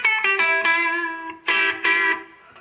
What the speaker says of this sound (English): Playing through the Les Paul out of the bridge pickup here.